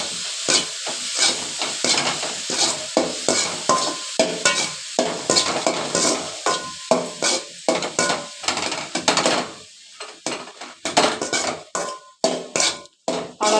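Spoon scraping and stirring moong dal puttu mixed with jaggery syrup in a pan, a steady run of rhythmic, close scrapes with light sizzling, no voices.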